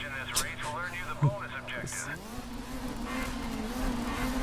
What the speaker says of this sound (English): I forgot how much this car wheel spins.